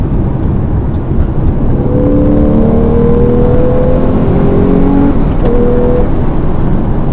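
A loud Porsche engine revs hard and climbs in pitch, dips briefly at the third-to-fourth gear change, then keeps pulling, heard from inside the car.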